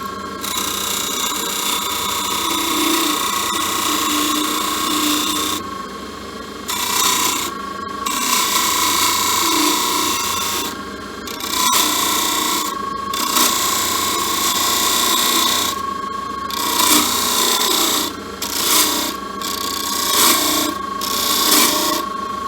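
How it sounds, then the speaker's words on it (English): Sandpaper rasps against a spinning hybrid wood and resin reel seat on a lathe, a loud, steady scratchy grind broken by several brief pauses as the paper is lifted and reapplied. "I'll clean that up with some sandpaper."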